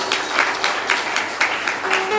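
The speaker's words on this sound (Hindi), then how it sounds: "ताली इनके लिए भी बजाते हैं" An audience at a satsang at Kabir Dham applauds, a dense, steady wash of many hands clapping together that carries on without a break and sounds close and fairly loud.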